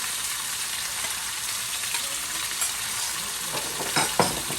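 Chicken and portobello mushrooms stir-fry in a hot pan, a dense steady sizzle close up with a few stirring scrapes near the end.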